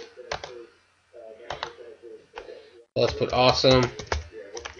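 Typing a comment on a computer keyboard: a few sparse clusters of close key clicks, then a person speaks over further tapping toward the end.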